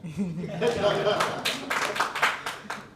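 An audience at a Malayalam film press meet for Bad Boys breaks into a burst of clapping that builds over a couple of seconds, with a speaking voice running alongside.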